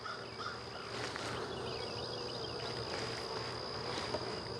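Honeybees in a brand-new hive started from a nuc hum in a steady, dense buzz close up, with faint insect chirps and birds in the background.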